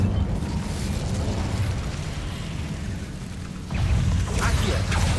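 In the game Hogwarts Legacy, an Incendio fire spell erupts in a rough, rumbling burst of flame, a sustained roaring whoosh that swells again partway through with crackling pops.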